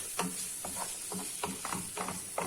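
Onions and spinach roots sauté with salt in a pan, giving a steady close sizzle broken by a regular series of scraping stirs, with no talking.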